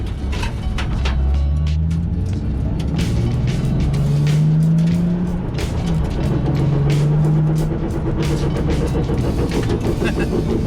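A Nissan 370Z built as a Safari rally car drives over gravel, with a loud, steady engine drone heard from close by and continuous crunching, rumbling road noise.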